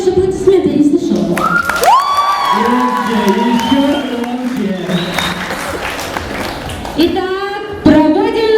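A crowd at a Miss and Mister contest applauds and cheers for the contestants, with shouting voices and whoops rising over clapping, loud and close, while a presenter speaks.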